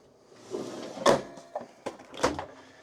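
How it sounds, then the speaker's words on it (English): A pull-out freezer drawer in an RV kitchen slides open with a series of sharp clunks and rattling knocks, close and fairly loud, over a quiet room. "We've got a nice freezer drawer that pulls out at the bottom"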